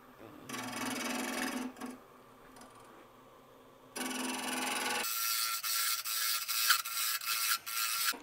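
A wood lathe turning a natural edge hollow form gives bursts of hissing, scraping cutting noise that stop and restart, then a brighter, rougher stretch with quick repeated ticks as gaps in the wood pass the tool.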